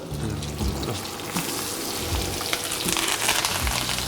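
Chopped onion frying in a hot pan in a restaurant kitchen, a loud, steady sizzle that runs unbroken throughout, with occasional stirring scrapes and no voices.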